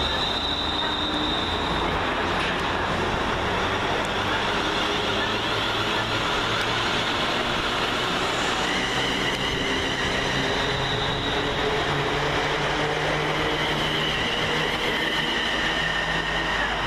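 London Northwestern Railway class 350 electric trains at Milton Keynes Central station, a loud continuous roar of wheels and traction with high wheel squeal running throughout, close to the platform.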